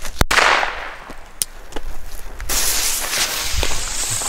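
Vulcan Reuzen Astronaut firecrackers go off outdoors in sharp, loud bangs, one hard crack near the start, then several fainter pops, ending in a longer crackling burst.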